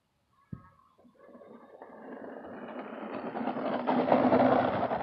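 After a sharp click, a remote-control airplane's motor whines and buzzes in flight, growing steadily louder and rougher as it nears.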